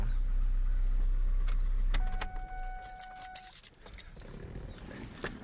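A 2011 Ford Ranger truck's idling engine hums steadily for about two seconds, then cuts off abruptly, leaving a brief jangle of keys and a few soft clicks in the quiet cab.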